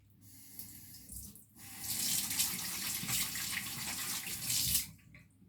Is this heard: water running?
yes